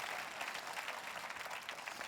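A church congregation claps together in a sustained burst, the applause even and continuous with no one speaking over it.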